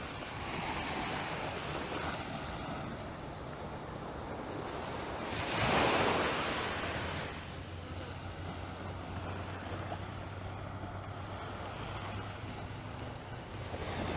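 Ocean surf rolls onto Brighton Beach, Barbados, at sunrise, a continuous broadband wash with one fuller wave swelling and breaking midway, under light wind noise on the microphone.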